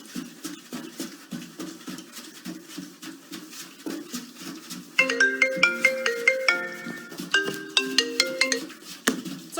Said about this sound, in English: Sorry guys, that's my phone.